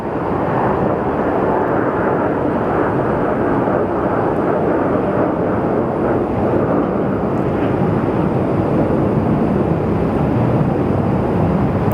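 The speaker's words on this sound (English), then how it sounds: "And here we have another little Delta Embraer coming in." A small Delta Embraer jet landing at Phoenix Sky Harbor Airport gives a steady, broad engine roar that holds loud and unbroken throughout, with no talking.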